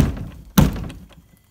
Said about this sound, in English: Check it out when I bang on the wall.